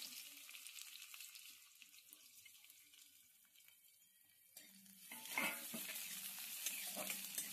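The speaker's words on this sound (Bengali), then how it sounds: "পেঁয়াজটাও ভেজে নিচ্ছি" Chopped onions sizzle in a pan with fried garlic, with frequent stirring and scraping; the frying grows louder and fuller partway through.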